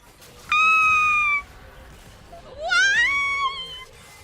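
A cat meows twice, close and loud: a short, level cry first, then after a pause a longer cry that rises and wavers before fading.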